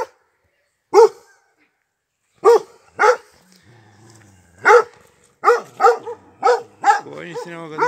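Sheepdogs guarding a flock in Nasirvaz village bark in sharp, loud separate yaps that come quicker toward the end, with a low murmur between barks.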